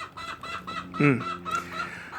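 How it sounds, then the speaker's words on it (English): Several chickens cluck and chatter nearby, with one louder squawk in the middle, over faint outdoor background noise. "Chickens."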